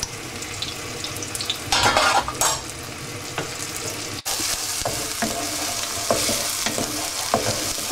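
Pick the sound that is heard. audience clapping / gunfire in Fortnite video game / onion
onion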